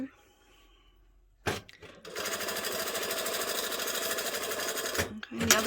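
An MC9900 embroidery sewing machine stitches fabric for an Easter basket, a close, steady fast mechanical chatter lasting about three seconds, preceded by faint handling sounds and brief clunks.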